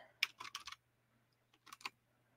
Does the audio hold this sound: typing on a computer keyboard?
yes